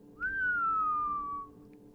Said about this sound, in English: Low, appreciative whistle indeed.